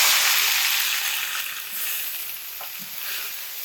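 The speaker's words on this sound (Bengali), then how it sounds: "এবার এর মধ্যে দিয়ে দিচ্ছি চেরা কাঁচা লঙ্কা আর টমেটো কুচি।" Slit green chilies and chopped tomato sizzle loudly in hot oil tempered with whole bay leaves and cumin, a steady dense frying hiss with faint stirring scrapes and no talk.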